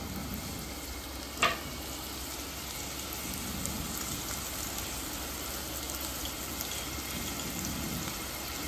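Ginger, garlic cloves and green chillies fry in hot oil in a pan, giving a steady, dense sizzle throughout with one brief sharp clink early on and no talking.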